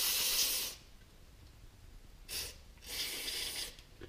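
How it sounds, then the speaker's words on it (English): Short blasts of aerosol carburetor cleaner hiss over a Honda CRF 50 carburetor part, with one burst at the start and two more after a quiet gap, fairly close with no voices. "Let's just go ahead and spray this guy off while we got it here."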